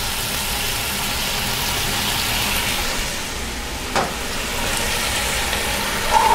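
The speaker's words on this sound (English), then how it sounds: "This is my red wine. I'm gonna deglaze the bottom of this pan." Red wine poured into a hot pan to deglaze caramelized vegetables for osso buco, a steady loud sizzle with a brief scrape or clink midway and a sharper tap near the end.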